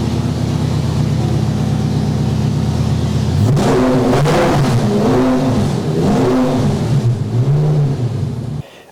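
A Volvo car engine with its exhaust removed idles with a rough, steady drone, then revs hard several times in rising and falling surges, loud and raw.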